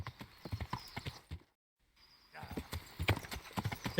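Rhythmic clip-clop of horse hooves galloping in the video game Kingdom Come Deliverance, a fast steady beat that cuts out briefly and resumes, with other game sounds beneath.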